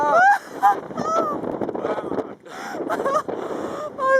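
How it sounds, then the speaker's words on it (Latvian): Strong wind buffets the microphone in loud gusts on the top of Siete Picos near Cercedilla, Madrid, while someone talks excitedly in Latvian over it, close and breathless. "Šausmīgs vējš!"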